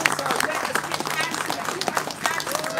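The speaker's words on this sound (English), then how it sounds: "Give Terry a round of applause." Live audience at a boogie woogie piano livestream gives a round of applause, dense steady clapping throughout with a voice speaking over it.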